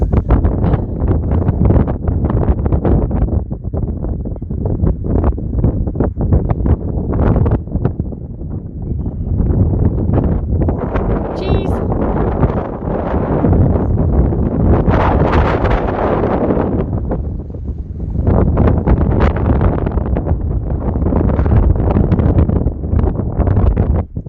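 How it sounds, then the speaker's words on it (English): Strong wind on the Isle of Harris batters the microphone in heavy, roaring gusts that rise and fall, with only brief, slightly calmer moments between blasts. "We're on the Isle of Harris and it's very windy"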